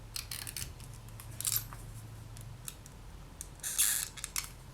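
Scissors trimming excess from a polymer clay rose necklace, a few quiet, crisp snips in a hushed room, with two brief cutting bursts near the start and another toward the end.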